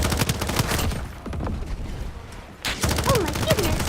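Rapid video game gunfire crackles in a dense fusillade, loud and close, with a brief lull before more shots and whooshing effects near the end.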